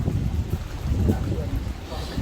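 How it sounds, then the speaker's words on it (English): Gusty wind buffets the microphone at Okehampton Castle, a steady low rumble with rising and falling gusts throughout. "It was very windy then,"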